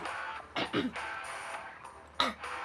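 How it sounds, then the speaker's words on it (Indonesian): A couple of short, rough coughs from someone nearby, with a brief pause between them, over a faint room hum. "Maaf guys, batuk gua."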